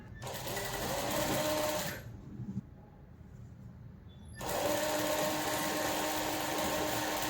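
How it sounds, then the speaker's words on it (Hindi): A sewing machine stitches a golden border onto the gathered skirt of a kali kurta, running in a loud, steady close whir, pausing briefly in the middle before starting again and continuing to the end. "इस तरह से मैं 1/2 इंच पे सिलाई देती हूँ।"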